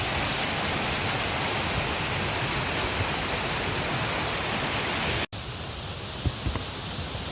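A mountain stream rushes through a cool, mossy forest valley at Gariwangsan, a dense, loud, continuous wash of water. A brief cut breaks it, and the flow resumes slightly softer.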